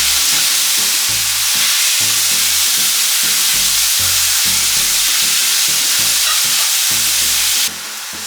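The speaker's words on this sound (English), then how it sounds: "while the chicken is frying" Small chicken pieces frying in a pan give a loud, steady sizzle with constant crackle and spatter, close up and uninterrupted for several seconds with no talking.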